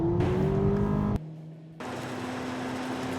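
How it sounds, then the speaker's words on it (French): A Volkswagen Polo GTI engine drones steadily on the Majorca race track, a sustained tonal hum that drops briefly mid-way before climbing back to a steady pitch. "on a vraiment l'impression que le moteur fait plus de bruit qu'il n'avance"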